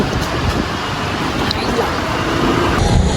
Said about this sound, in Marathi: गाड्या चालत बघा.